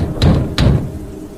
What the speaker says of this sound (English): weeks since I'd last seen Terry, I was woken up to him banging on my bedroom door and yelling my name.